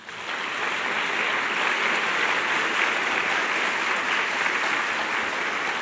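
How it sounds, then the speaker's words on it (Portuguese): A church congregation at Frei Gilson's sermon breaks into applause, a thick, continuous patter of many hands that swells quickly and stays steady and fairly loud throughout. "Pode aplaudir Jesus."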